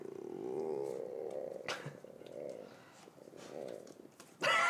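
A hungry stomach growls in long, low, wavering rumbles that rise and fade several times, ending with a brief burst of louder noise.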